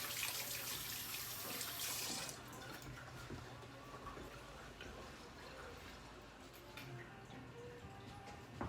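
Hands rinsed under a running kitchen tap while baking, a steady hissing splash of water that is louder for the first two seconds and then continues more softly with small spatters, with no talking.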